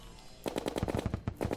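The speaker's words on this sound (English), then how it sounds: "I love how you're still shooting him in the head." Gunfire from a weapon shooting an enemy in the game Terraria, a rapid string of punchy shots in close succession with a brief gap before a final few bursts, loud and alone.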